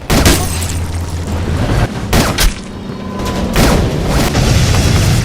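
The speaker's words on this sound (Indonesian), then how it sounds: "langsung menembak satu persatu tentara Irak dengan cara seperti ini" Gunfire sound effects depict a sniper shooting Iraqi soldiers in a war scene: loud, booming shots and blasts, repeated close together over a dense, rumbling background.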